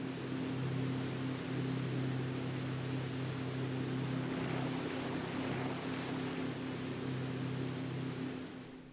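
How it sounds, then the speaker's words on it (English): A motorboat engine hums steadily on the sea, a continuous droning tone over wash and wind noise, moderately distant and unbroken throughout. "Motorboats can come in all sizes."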